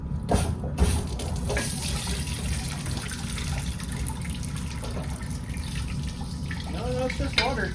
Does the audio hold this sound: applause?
no